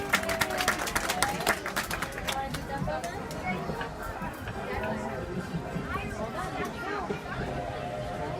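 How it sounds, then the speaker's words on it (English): Passengers aboard the Walt Disney World Railroad train at Magic Kingdom clap in a short, sharp burst that soon thins into crowd chatter and voices talking over station background noise. "Everyone give her a round of applause,"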